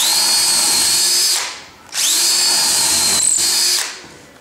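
A power drill boring into timber whines at high pitch in two long bursts, each dropping off as the bit is pulled out, with a brief pause and a short tonal blip in between.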